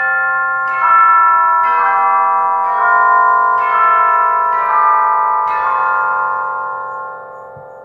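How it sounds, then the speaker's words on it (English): Bright metallic chimes are struck one after another, each ring overlapping the last and slowly fading out. "Chimes are such a great instrument"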